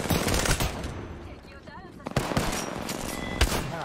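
Automatic gunfire in an Apex Legends match, dense rapid bursts with sharp cracks, loud and close, broken by brief pauses, with people talking over the shooting.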